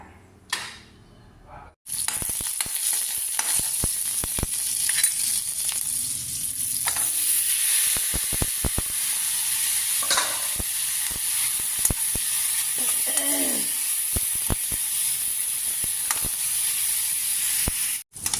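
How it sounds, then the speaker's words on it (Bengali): Bitter gourd (karela) fries with tomato in a pan, giving a loud, continuous sizzle and crackle that starts abruptly after a quiet moment, with occasional stirring scrapes and clinks on top. "টমেটো দিয়ে একটু করলা ভাজেছি"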